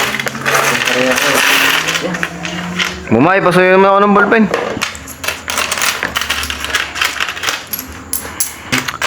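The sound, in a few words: handling many coins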